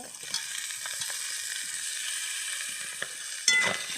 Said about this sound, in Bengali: কিছু ভালো করে ভেজে নিতে হবে।